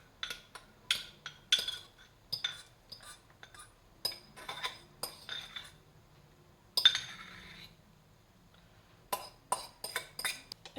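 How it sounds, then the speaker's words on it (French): A utensil gently stirring vegan chocolate mousse made with whipped chickpea whites in a bowl, giving a series of light, irregular clinks and taps against the bowl, close and fairly quiet, with short pauses between bursts. "Et je viens tourner tout doucement la préparation pour mélanger le chocolat et le blanc"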